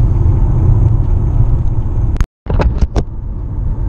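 Plug-in hybrid car rolling along a road, a steady low road and engine rumble filling the cabin, briefly cut out before resuming with a few sharp clicks or bumps.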